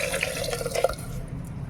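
Water poured into a pot of rice, a continuous splashing, gurgling stream close by that tapers off toward the end.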